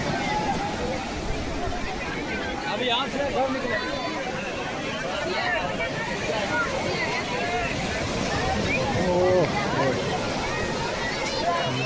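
Sea waves wash and churn steadily at the shore in Dwarka alongside wind buffeting the microphone, with voices talking over the surf.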